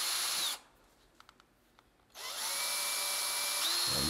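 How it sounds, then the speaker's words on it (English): A power drill bores into a steel knife blank lubricated with oil, whining loudly, then cutting out for a quiet pause before spinning up again at full speed. "Now what we're looking for when we drill is that it's pulling up actual chips."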